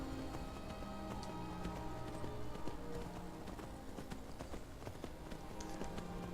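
Horse hooves clip-clop steadily at a riding pace across ground in the video game Skyrim, a continuous run of close, distinct strikes with no talking.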